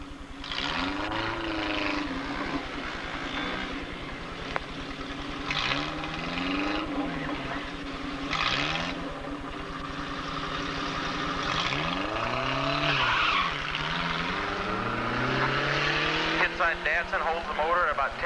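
Datsun and Chevrolet Malibu drag cars at Edinburg International Dragway in 1987, engines held near 10,000 RPM then launching hard, with repeated rising and falling engine sweeps, loud and close, under continuous commentary.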